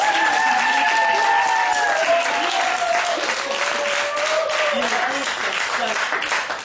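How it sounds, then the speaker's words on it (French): A crowd at the Mulhouse Christmas market claps and cheers in sustained applause, loud and dense throughout, with a voice speaking over it. "Applaudissez que je vous entende un peu."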